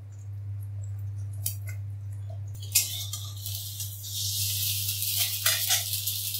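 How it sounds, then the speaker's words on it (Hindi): Eggs fry in a pan on a home stove, a bright sizzle that swells after a few faint clicks and keeps crackling loudly, with a steady low hum underneath. "तो इसी तरीके से सारे अंडे को मैं ऐसे फ्राई कर लूंगी पहले"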